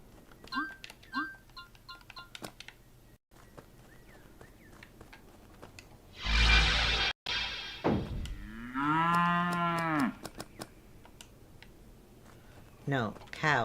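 Cartoonish cow moo from the cooking video game Epic Chef, a long wavering low call standing out among game clicks, chimes and a burst of noise, with a person talking at times.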